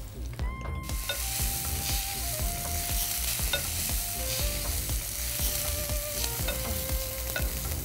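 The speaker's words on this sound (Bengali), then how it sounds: "বাদামটা যতক্ষণ একটু কালো কালো হবে, জাস্ট রোস্ট হবে, একেবারে পুড়ে যাবে না, ততক্ষণ মশলাটা ভেজে নিব" Cashew nuts and spices frying in a pan and being stirred, a steady close sizzle with scraping stir strokes and faint clinks throughout.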